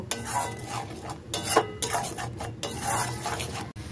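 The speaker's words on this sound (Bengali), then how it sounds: "এবারে লঙ্কার গুঁড়োটাকেও মশলার সাথে ভালো করে মিশিয়ে কষিয়ে নেব" Chili powder stirred into spice masala frying in a pan for egg masala tadka, a steady scraping of spoon on metal with soft sizzle underneath, close and continuous with brief louder scrapes.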